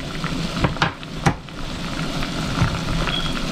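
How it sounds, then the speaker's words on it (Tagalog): Soft bubbling and simmering from a pot of sinigang broth with king salmon head, with a couple of brief clinks of a utensil against metal. "Ayan, kumukulo na."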